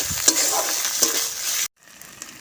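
Ginger-cumin paste and green chilies hit hot oil in a pan with a loud, steady sizzle, broken by a couple of spoon scrapes, then abruptly cut off and resuming more quietly.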